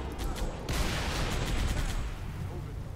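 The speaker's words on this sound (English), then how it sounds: "Let me do the shooting." Gunfire from the Halo Reach video game, a rapid burst of shots at the start followed by a dense rumbling wash of weapon fire and explosions, moderately loud and continuous.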